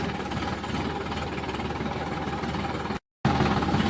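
A tractor engine runs as it arrives to haul an onion trolley, a steady, loud, chugging drone with a brief dropout near the end and no talk.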